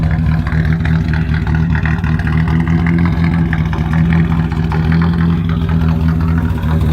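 A 1986 Dodge Omni GLHT with a turbocharged engine and boost controller cruises down the road, its steady, loud engine drone holding a constant low rumble from start to finish without any voices.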